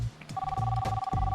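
A phone call rings through a speakerphone, a steady electronic ring tone sustained for over a second, with faint talk and stage noise underneath during a comedy show.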